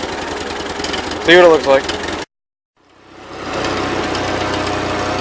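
A 1941 Ford 9N tractor engine running after a carburetor adjustment, a steady close rumbling idle with a knocking pulse, cut off briefly by a short silence before the running returns, with someone speaking over it early on.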